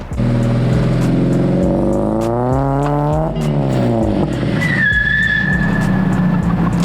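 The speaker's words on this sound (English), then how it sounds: "We'll insert some racing clips now." A modified Ford Figo racing hard, its engine revving loudly through rising and falling gear pulls with sharp gear-shift breaks, followed by a high tire squeal as it skids, all close and continuous.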